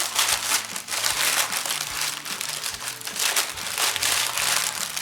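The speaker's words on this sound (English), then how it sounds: "kind of crumple it up so the paper stays together" Continuous crinkling and crumpling of parchment paper being folded into a package, close and steady, with a faint low hum underneath.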